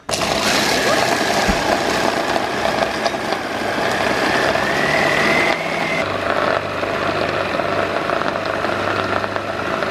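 A food processor blends basil pesto with a continuous close motor whir and grinding rattle, running steadily throughout with a slight change in tone midway.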